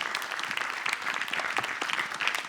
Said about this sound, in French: On peut applaudir Bérangère Sibylle, assistante sociale du Val